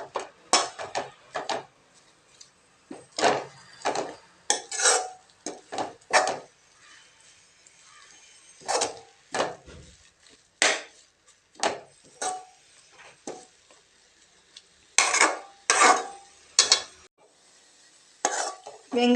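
Onions sautéing in oil in a pan are stirred with a utensil, giving repeated scraping and clattering strokes in irregular bursts with quiet gaps between, fairly close and with no talk over them.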